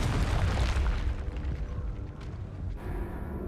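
Confringo blasting spell explosion in Hogwarts Legacy: a heavy booming burst with a rumbling low end that decays over a couple of seconds, ending in a brief sharp crack.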